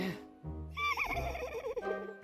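A horse whinnies with a rising, wavering call over a low rumble, close and fairly loud, lasting about two seconds.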